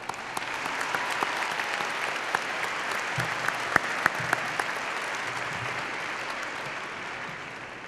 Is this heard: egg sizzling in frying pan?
no